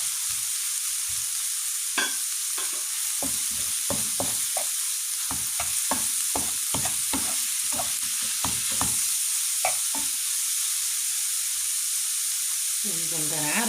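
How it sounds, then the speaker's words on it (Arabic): Carrots and semolina are stirred in a sizzling pan, giving a series of quick scraping strokes in an uneven rhythm over a constant frying hiss, close and clear, ending with a burst of heavier sizzle. "وتنحركو مزيان"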